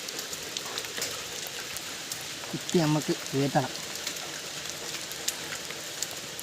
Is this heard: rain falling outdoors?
yes